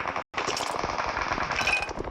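Video game gunfire: a rapid automatic burst rattles out close and loud, cut by a split-second gap near the start before the shots resume and run on without stopping.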